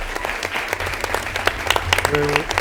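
Audience at a Monroe Township Board of Education meeting claps in a brief burst of applause, steady patter of many hands with some talk beneath it.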